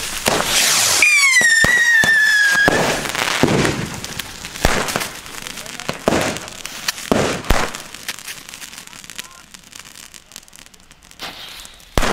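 Super Böller 2 firecrackers from a WECO Bombette set go off outdoors: a loud rushing burst with a high whistle at first, then a scatter of sharp cracks and pops fading away, and a final bang at the end.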